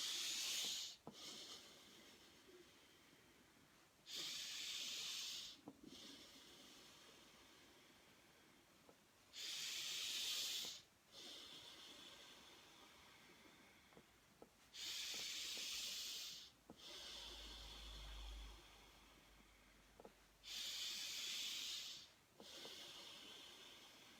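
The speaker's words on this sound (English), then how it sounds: "Breathe in." Deep, slow breathing during a meditation exercise: long hissing inhales and exhales alternating in a steady rhythm, about ten breaths, close and quiet, with a faint low hum in one stretch.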